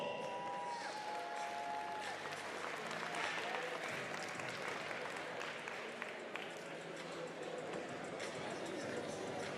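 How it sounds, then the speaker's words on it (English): An arena crowd at a grappling event applauds steadily throughout, a dense wash of clapping with some cheering, joined by faint talk and tonal announcer or music sounds near the start. "let's give these two grapplers another round of applause"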